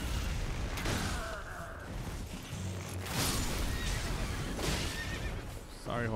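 A horse in the video game Elden Ring neighs and whinnies several times amid hoof clip-clops and game sound effects, fairly close and loud.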